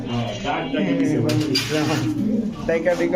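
Caged pigeons coo in low, repeated calls throughout, mixed under someone talking steadily nearby.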